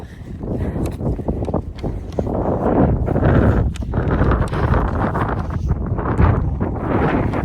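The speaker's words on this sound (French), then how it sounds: "il y a du vent" Strong wind buffets a microphone outdoors in Ireland, a loud, continuous, gusting roar of low rumble and rustle with no voices.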